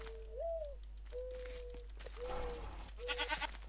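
A Minecraft ram repeats four short, level bleats spaced about a second apart, moderately loud over a constant low hum, with brief game noises between them.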